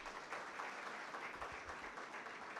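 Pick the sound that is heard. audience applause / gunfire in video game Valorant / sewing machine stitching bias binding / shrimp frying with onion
audience applause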